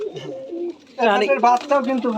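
Pigeons at a loft farm in Rajshahi coo softly under a man's speech. The low, throaty calls sit beneath a steady flow of talk.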